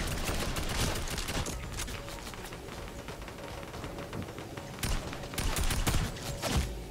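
SMG gunfire in Fortnite, fast bursts of rapid shots that crackle in clusters at the start and again near the end, with quieter scattered popping between and no speech.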